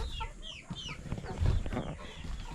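Laying hens that produce colored eggs, heard in their pen, clucking and chirping at close range. Soft rustling and low thumps sit under the calls, and no one speaks.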